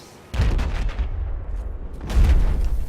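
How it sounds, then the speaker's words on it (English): Deep booming missile blasts in a competitive 8v8 multiplayer shooter match, two heavy bursts of rumbling explosions a couple of seconds apart, loud and close. "Amroth with the TV missiles."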